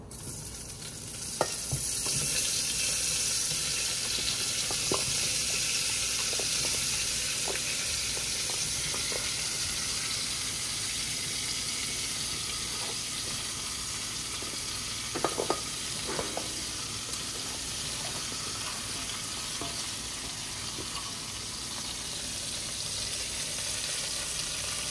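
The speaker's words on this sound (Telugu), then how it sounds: "గీ అండ్ కొంచెం బటర్ వేసుకొని, జీలకర్ర ఉంటే జీలకర్ర వేసేసుకొని ఈ వెజిటేబుల్స్ అన్నీ వేసేద్దాము" Mixed vegetables frying in ghee and a little butter with cumin for pav bhaji, a continuous loud sizzle with occasional clinks and scrapes of stirring, and no talk.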